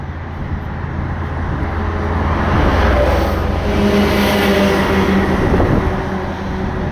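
A car passes on a road near Wavre, heard from the roadside by someone on foot, a loud, steady engine and tyre roar that swells through the middle and holds to the end, with no talking.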